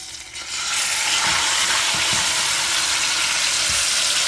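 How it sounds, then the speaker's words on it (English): Beef drops into a hot pot on the stove and starts a loud, steady sizzle of searing, heard up close. Faint scrapes and clinks of stirring come through under the frying. "I'm gonna go in with my beef, and I put the stove on low heat"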